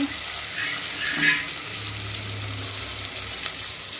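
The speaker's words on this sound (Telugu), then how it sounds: "ఇదైతే ఫ్రై చేసేద్దాం మంచిగా" Nalleru, the adamant creeper, fries as cut stems in a pan, giving a constant broadband sizzle with one brief stirring scrape and no talk over it.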